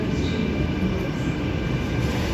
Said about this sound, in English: And there's a train on platform 16.